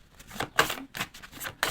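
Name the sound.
cutting a deck of tarot cards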